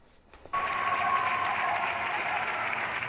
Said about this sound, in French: Des applaudissements par milliers